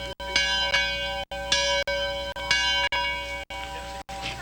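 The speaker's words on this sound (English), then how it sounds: "It was the ring of a particular bell that called to one Upper St. Clair resident" A bell tolls in a slow, steady series of about eight resonant strikes, each ringing out with a long metallic hum, heard clearly and fairly near with no voices.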